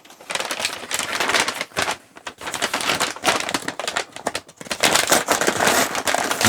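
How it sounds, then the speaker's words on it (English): Paper packaging tears and crinkles in loud, dense bursts during a tech gadget unboxing, with brief pauses between sharp rustling runs, close to the microphone and with no talking. "Try not to be too noisy, but it's paper after all."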